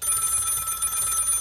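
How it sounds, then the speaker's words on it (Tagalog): An electronic telephone ring trills steadily for the whole moment, a bright high warble with no voices over it. "Telepono."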